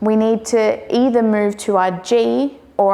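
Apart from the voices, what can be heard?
No everyday noises stand out.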